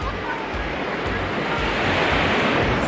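Ocean surf rolls onto a Costa Rica beach in a dense, continuous wash of wave noise, loud and close, with wind buffeting the microphone and no voices.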